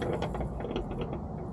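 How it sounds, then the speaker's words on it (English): Socket ratchet working a nut loose on a BOSS 9'2" DXT snow plow, a rapid metallic clicking close to the listener for about a second and a half, with no voices. "let's go ahead and get that nut off"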